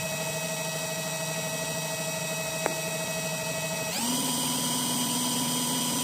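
An electric generator for 12 V lamps hums at a steady pitch, then its engine speeds up partway through, the whine stepping to a higher, slightly louder drone.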